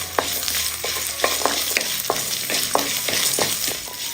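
Chopped garlic and ginger sizzle loudly in a hot pan, with a spoon stirring and scraping in a series of regular strokes over the continuous frying hiss.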